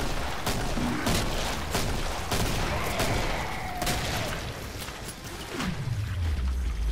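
Lever-action rifle fire in the Killing Floor video game, a quick series of sharp cracks spaced across the stretch, mixed with game noise and ending in a descending whine.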